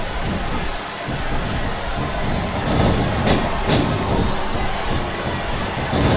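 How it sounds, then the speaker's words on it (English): A capacity arena crowd in the WWE SmackDown vs Raw 2007 wrestling video game, during an Elimination Chamber match, roars and cheers in a dense, continuous wash, with faint commentary voices underneath. "This capacity crowd is making their opinions known tonight."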